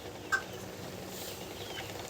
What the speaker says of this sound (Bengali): আর এখানে দেখতে পাচ্ছেন দেশি মুরগিগুলো